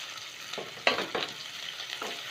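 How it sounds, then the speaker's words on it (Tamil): Curry leaves hit hot oil for a Tamil ridge gourd kadaiyal, giving a soft, steady sizzle broken by several sharp crackling pops and spits. "இது கூடவே கருவேப்பிலையும் போட்டுக்கிறேன்."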